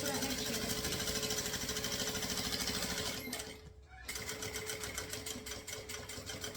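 A sewing machine runs steadily at a close-up, closing-stitch length while sewing a round bag's seam, with a short reverse for backstitching. The whirring stops briefly at the midpoint and then starts again.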